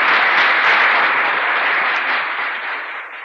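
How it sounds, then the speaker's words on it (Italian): Studio audience of a television quiz show applauding, a full steady round of clapping that gradually thins and fades toward the end. "merita veramente un bel applauso"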